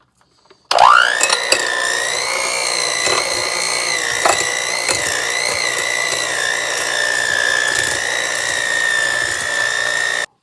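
An electric hand mixer creams sugar into brownie batter for cheesecake brownies. It starts abruptly with a rising whine, then holds a steady, loud motor hum with occasional clicks and scraping, and no one talks.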